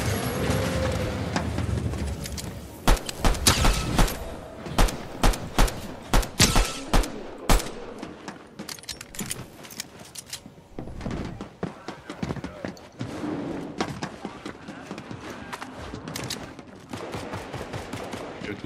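Gunfire in Fortnite, with rapid cracks and bursts scattered through the whole stretch, some spaced single shots and some dense volleys, loud and close. Speech is also present.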